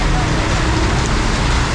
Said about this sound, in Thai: ฝนก็ตกลงมาพอดี